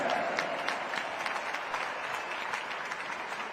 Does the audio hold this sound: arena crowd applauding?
yes